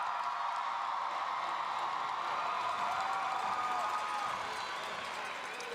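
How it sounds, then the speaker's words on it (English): A crowd applauding and cheering for the graduating class of 2023 at a school graduation ceremony, a dense, steady roar of clapping heard from within a large hall. "Can I please get a big round of applause for the newly graduated class of 2023?"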